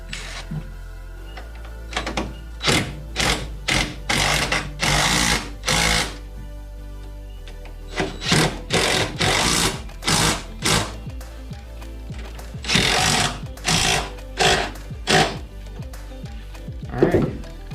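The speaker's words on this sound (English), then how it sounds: "so let's tighten these down" Tool bursts tightening bolts on a Nissan Sentra front strut assembly, loud and close, in short repeated runs of about half a second each, grouped in two clusters with brief pauses between.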